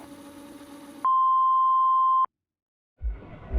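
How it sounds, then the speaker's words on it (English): A single steady electronic answering-machine beep sounds for about a second after a recorded greeting, then cuts to silence before faint rumbling noise begins. "please leave a message after the beep"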